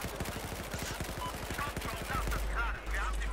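Rapid automatic gunfire in Battlefield 4 rattles out as a fast burst of evenly spaced shots for about two seconds, followed by game noise, a low rumble and faint voice-like sounds.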